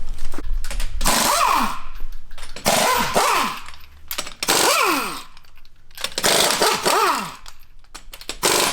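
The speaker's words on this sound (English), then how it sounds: "So you see how he takes the lugs off the wheel?" A power tool works the lug nuts off a 2019+ Ram 2500/3500 truck wheel in about five loud, close bursts of roughly a second each, with short quiet gaps between them.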